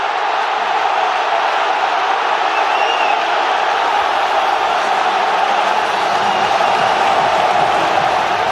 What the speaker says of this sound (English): delirium from the supporters